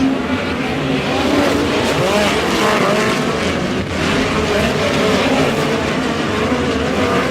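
Midget race cars at Airport Raceway roar around the dirt oval in a dense, continuous wall of engine noise, close and loud, with throttle swells and no break throughout.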